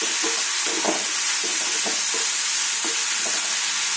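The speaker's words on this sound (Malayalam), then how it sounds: "ഒന്ന് മിക്സ് ചെയ്യാം. നന്നായിട്ട് ഇളക്കി കൊടുക്കണം." Cabbage vegetable thoran being stirred in a hot pan: a steady oily sizzle with repeated scraping and clinking strokes of the spoon, close and fairly loud, with no talking.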